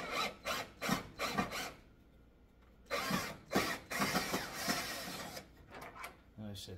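Phillips screwdriver backing a screw out of a tanning bed, with close scraping and ratcheting turns in short bursts, a brief pause, then more grinding rasps.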